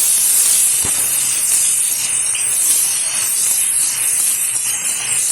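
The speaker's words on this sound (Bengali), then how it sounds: "দিয়ে দিচ্ছি বেছে রাখা চিংড়ি মাছ আর চিংড়ি মাছ একটু নেড়ে চেড়ে নেব" Shrimp hitting hot oil with turmeric, giving a loud, steady, close hiss of frying that runs throughout, with one brief knock near the start and no voices.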